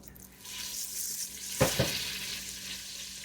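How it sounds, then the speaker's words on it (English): Vegetables sauté in hot avocado oil for a kale gumbo, giving a steady close sizzle with a louder burst of crackling partway through as more go into the pan. "because I got a lot of veggies to saute in that"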